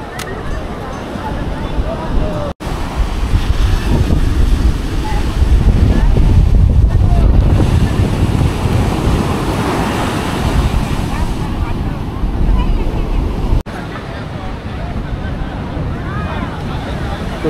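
Ocean surf and gusting wind at Puri sea beach, a steady loud roar of breaking waves with heavy wind buffeting the microphone, two brief dropouts, and faint voices of beachgoers mixed in.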